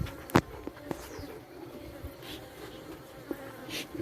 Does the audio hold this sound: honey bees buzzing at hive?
yes